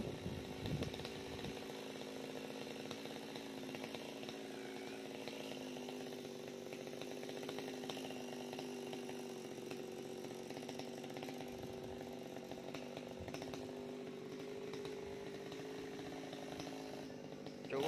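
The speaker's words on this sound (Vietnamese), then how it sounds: "Chú bây giờ đứng đó cưa cái nhánh to" A chainsaw cuts through a large branch of a tall tree, its engine droning steadily and continuously throughout at a moderate distance, with no pauses.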